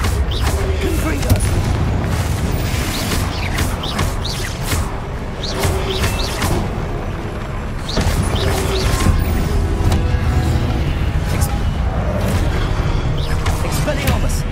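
Confringo blasting spells erupt in Hogwarts Legacy combat, repeated loud bursts and crashes amid dense spell effects, with a voice talking throughout.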